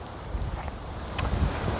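Wind gusts buffet the microphone outdoors on a hillside walking trail, a low rumbling rush with brief louder puffs across the short stretch.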